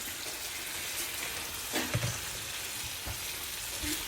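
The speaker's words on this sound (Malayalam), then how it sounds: "നേരത്തെ നമ്മൾ മസാല പുരട്ടി വെച്ച ചിക്കൻ ഇതിലേക്ക് ആഡ് ചെയ്ത് കൊടുക്കുന്നു" Marinated chicken fries in masala paste for a curry, giving a steady, soft sizzle with a few clattering stirs scattered through.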